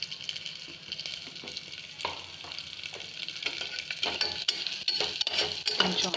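Moong dal frying lightly in oil and ghee for pongal, a steady close sizzle broken by repeated spoon scrapes and metallic clinks against the pan.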